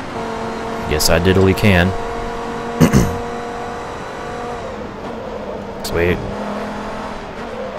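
Race car engines at Suzuka in Forza Motorsport 2 as a car slipstreams past a Honda NSX, with rising and falling engine whines and several quick passing swells over a steady engine drone, while someone talks over it.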